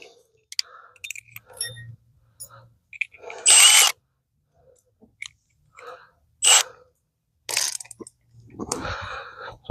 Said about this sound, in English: I'm going to use my drill to run this in